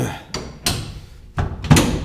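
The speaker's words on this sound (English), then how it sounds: "obviously we can open and close the door" Car door on a Porsche 962 mock-up opened and closed, giving a series of sharp clunks and latch clicks, about five distinct knocks spread over two seconds, close by, with faint background noise between them.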